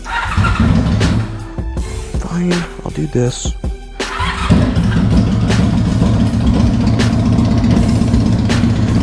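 A motorcycle engine in a garage idles with a steady low throb, cuts out briefly, then fires and settles back into a loud, close, even idle while someone speaks a few words over it.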